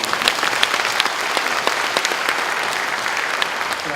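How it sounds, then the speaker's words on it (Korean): A live audience at a Korean government administrative-innovation talk show concert breaks into sustained applause, a dense, even crackle of many hands clapping together throughout, fairly close and steady with no talk over it. "좋은 말씀 해주신 여러분께 우리 한번 박수 치고"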